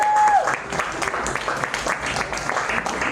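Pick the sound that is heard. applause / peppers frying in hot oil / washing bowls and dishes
applause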